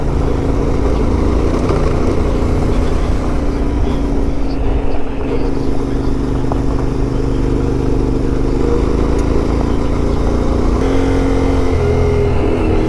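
Small trail motorcycle riding along a dusty backcountry route, its engine a steady, continuous drone close by with slight rises and falls in pitch throughout, no talking.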